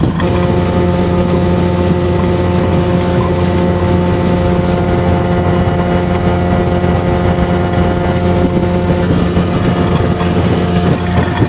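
A loud, steady 40 hp Johnson outboard on a 16 ft Bass Tracker boat drones close by, holding a constant tone with wind buffeting the microphone throughout; no voices.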